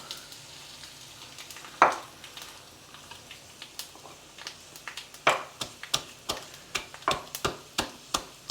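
Garlic, mustard seeds, cumin and spice powder fry in hot oil as tempering for rasam, giving a steady soft sizzle dotted with sharp, irregular pops and crackles close by.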